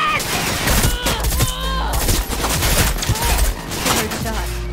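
A rapid, dense volley of gunshots cracks out loud and close, shots overlapping almost continuously with only brief dips in intensity.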